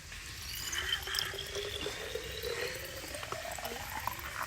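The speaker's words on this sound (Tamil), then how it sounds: "ஃப்ரெண்ட்ஸ் இப்போ நம்ம பாருங்க ஃப்ரெண்ட்ஸ் தண்ணி ஊத்துறோம்" Water is poured out in a steady trickling stream with faint splashing, heard alone at a moderate level without talking.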